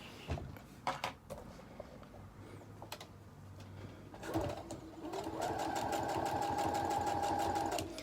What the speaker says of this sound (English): then I'll just sew the lining in place